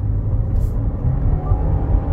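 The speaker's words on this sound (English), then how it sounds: "Okay, I'm gonna hit the gas hard." Low engine rumble from a Subaru car under hard acceleration, a steady close drone with a faint rising tone and no talking.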